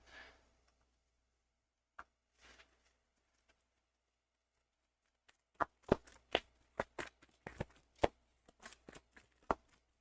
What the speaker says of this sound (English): I'm like shuffling so we don't get the same card.